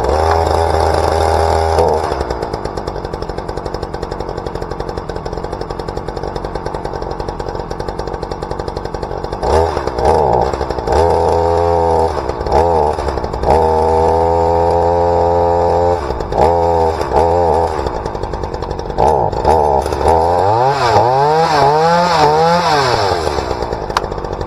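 A Ryobi chainsaw's engine runs loud and close for the whole stretch, idling with a steady rattling drone, then revving in repeated bursts that rise and fall in pitch, with no talking over it.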